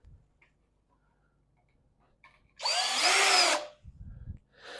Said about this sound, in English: let's go ahead and just get a couple screws started here